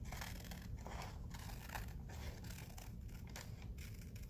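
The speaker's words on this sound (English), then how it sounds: "Try to cut a straight line right down the side here." Scissors snipping through thin magazine pages during a craft session, a quiet series of short crisp cuts repeating in quick rhythm, close up and faint overall.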